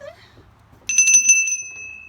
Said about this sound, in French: Alors ça, c'est la petite sonnette.